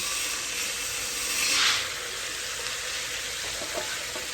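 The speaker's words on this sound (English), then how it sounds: "I'm going to try to talk over the sizzling, so it'll stop in a minute" Chicken frying in a pan for smothered fried chicken, with a small cabbage cooking nearby; a steady close sizzle runs throughout and swells briefly into a louder hiss midway.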